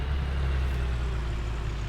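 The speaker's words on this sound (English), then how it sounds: "I don't recognise the tractor." A tractor engine in a survival farming roleplay game, a steady low diesel rumble that holds without a break, fairly close and heavy, with no talk over it.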